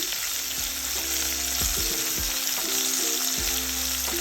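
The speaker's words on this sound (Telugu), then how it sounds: "కొంచెం పచ్చిమిరపకాయలు వేగాలి." Green chillies fry in hot oil with ginger in a pan for an Andhra jackfruit curry, giving a continuous close sizzle with occasional clinks and scrapes of stirring.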